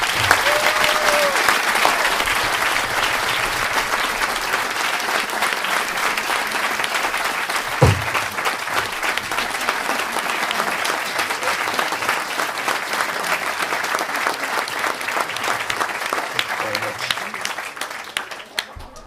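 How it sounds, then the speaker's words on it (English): Sustained, enthusiastic applause from an indoor audience at a family award ceremony fills the whole stretch at an even, steady level, with many hands clapping together and a brief low thump partway through. "let's give them a huge round of applause."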